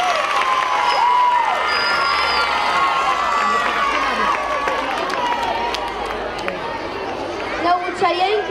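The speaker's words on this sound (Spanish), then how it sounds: "¡Un aplauso para los sextos," Schoolchildren in a crowded gym at a Constitution Day celebration applaud and cheer for the sixth graders, a dense, lively roar of clapping and shouts with voices calling over it.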